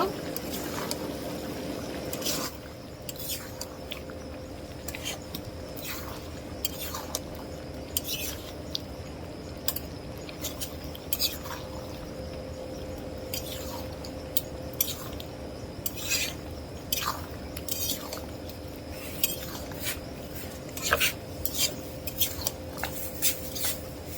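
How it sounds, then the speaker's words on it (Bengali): A spoon stirs khichuri in a cooking pot with scattered light scrapes and clinks over a steady low hum, while a voice talks quietly in the background. "একটু নাড়া দিয়ে দিব।"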